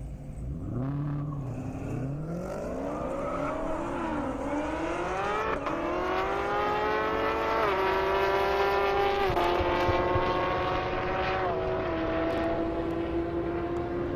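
A Dodge Challenger and a Camaro ZL1 drag race on a half-mile airport strip, engines howling through rising gear pulls with clear shift steps, loud and continuous for over fourteen seconds, no talking.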